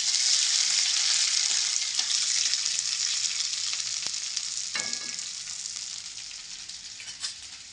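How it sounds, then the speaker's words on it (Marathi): Ginger-garlic paste fries in a hot pan with a loud, steady hiss, broken by a few soft scrapes of stirring that fade slightly toward the end. "अद्रक लसूणचं पेस्ट. आपण याला हलवून घेऊया अशा प्रकारे."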